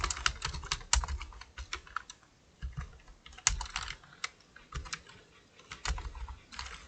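Rapid typing on a computer keyboard while entering data in an Excel spreadsheet, with irregular bursts of crisp key clicks and a few louder strikes, close and clear with no talk.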